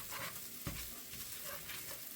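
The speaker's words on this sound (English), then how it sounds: "I'm trying to stir this around without throwing any of it out" Breakfast burrito filling being stirred in a 10-inch Modern Innovations skillet, a steady sizzle with scraping strokes and one brief knock against the pan, close and fairly quiet.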